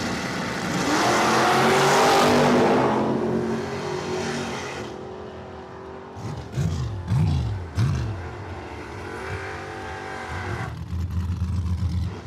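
A 1965 Mustang and an S10 drag race down a dragway strip. A loud engine roar builds, then fades, and several revving bursts follow near the end.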